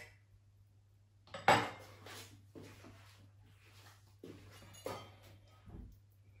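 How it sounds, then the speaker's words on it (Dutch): Dawet syrup and milk mixture for ice lollies is stirred in a container, with a sharp clink of utensil on the vessel, then quieter scrapes and taps spread over several seconds, fairly close, with no speech. "Dan gaan we weer goed mengen."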